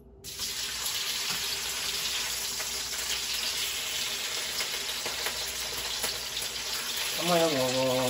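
Marinated squab sizzles in a hot pan with a steady, hissy crackle of frying oil. Near the end a brief low tonal clatter cuts in over the constant fizz.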